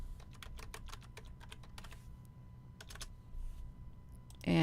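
Close, quiet typing on a computer keyboard, a quick run of crisp key clicks in bursts with short pauses, then a few more taps near the end.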